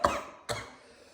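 Two sharp coughs from one person about half a second apart, close and fairly loud, the first stronger, with a short fading tail after the second.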